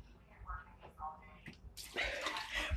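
Dirty water gushes from the drain nozzle of a Best Choice Products portable mini washing machine, a sudden loud rushing splash that starts after faint talk and continues steadily.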